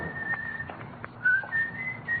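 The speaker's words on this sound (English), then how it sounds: "That's a pretty tune you're whistling" A person whistles a tune in a quiet indoor room, the melody wavering and pausing between short phrases, fairly close and alone with no talking.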